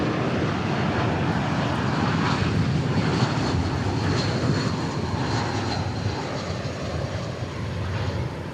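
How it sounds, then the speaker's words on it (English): Airbus A321 arriving at Dallas Fort Worth from Denver: a steady, fairly loud jet engine roar with a whining upper tone, holding evenly with no voices. "This looks like an A320 that's arriving. Nope, A321."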